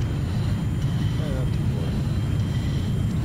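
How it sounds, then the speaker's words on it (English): A jet aircraft in Battlefield 4 gives a constant low roaring engine drone with wind-like rush, steady throughout while someone talks over it. "just me in a freaking jet"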